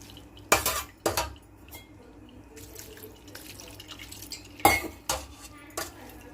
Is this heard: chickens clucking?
no